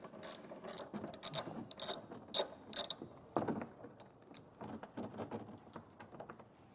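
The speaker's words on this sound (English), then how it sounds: "So with that 10mm socket, we'll get that taken down." A ratchet with a 10mm socket loosens a bolt on a 2021 Honda Odyssey during a trailer hitch install, giving close, crisp bursts of rapid clicking with short pauses between strokes.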